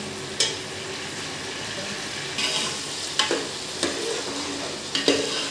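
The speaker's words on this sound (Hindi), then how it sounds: "प्याज डालने के बाद थोड़ा सा इसको ब्राउन कर लेंगे" Onions frying in a pan for moong and masoor tadka dal, stirred until brown: a steady sizzle with a few scraping stir strokes spaced every second or so, close and moderately loud, no voices.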